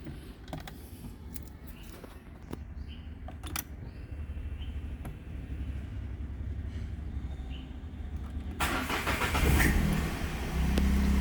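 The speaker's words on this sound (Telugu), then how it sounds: "ఒకసారి వెహికల్ కూడా స్టార్ట్ చేస్తున్నా." A 2020 Renault Kwid RXL petrol hatchback with manual transmission idles with a low steady hum, with occasional clicks and creaks, before the engine catches and the sound swells louder near the end.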